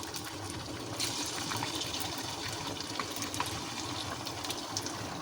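Suji snack nuggets dropped one by one into hot oil, a continuous frying sizzle with small bursts as each piece goes in, close and steady.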